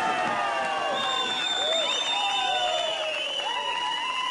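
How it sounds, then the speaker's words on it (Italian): A crowd at a men's 3 m synchronized springboard diving event at a world championships applauds and cheers, with high whistles and whoops rising over a steady wash of clapping in a large venue. "Vedete il clan tedesco che applaude"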